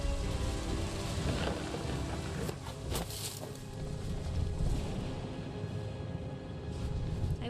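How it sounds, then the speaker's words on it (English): Thunderstorm in the video game What Remains of Edith Finch: steady, loud rain hisses on surfaces throughout, with rumbling thunder rolling underneath and a brief sharper crack near the middle. "The thunder sounded much too close and full of angry power."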